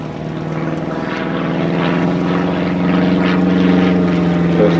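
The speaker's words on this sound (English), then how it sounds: "First aircraft manufactured by the Bücker Flugzeugbau, and very, very successful" A Bücker Jungmann biplane flies an aerobatic display at Flying Legends 2018, its propeller engine droning loudly and steadily, rising and falling in pitch as the aircraft manoeuvres overhead.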